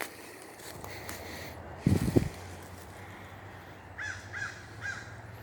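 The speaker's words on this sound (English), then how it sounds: "I hear some strange crow noises." Crows in the woods, a few distant caws spread out, the last ones a quick run of three, with a brief rustle or thump of nearby movement earlier, quiet outdoor background.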